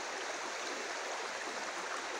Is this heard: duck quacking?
no